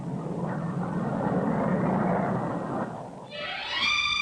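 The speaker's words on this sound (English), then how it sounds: "The first passenger jet clipper to fly the Atlantic." Passenger jet clipper airliner flying past, a loud broad roar that holds steady then fades, followed by a rising whine near the end.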